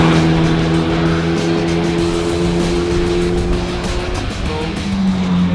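Hyundai N performance cars lapping a race track, engines droning steadily up close with a shift in pitch near the end as one car changes gear or passes.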